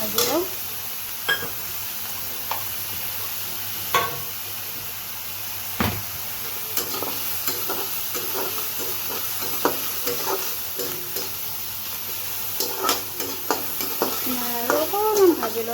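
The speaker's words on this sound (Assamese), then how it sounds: "পিঁয়াজখিনি অলপমান এনেকৈ ভাজি লওঁ" Onions frying in a salted pan on a home stove, a steady broadband sizzle with scraping stirs and occasional spatula clinks throughout.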